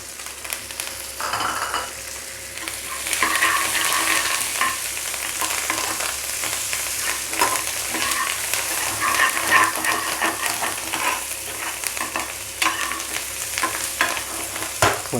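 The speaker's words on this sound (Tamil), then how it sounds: "இது கூட வந்து நம்ம கருவேப்பிலை லைட்டாக வதங்கணும்." Curry leaves and coriander sizzle and crackle in hot oil as a tempering for sambar, with a steady frying hiss and frequent stirring scrapes running throughout.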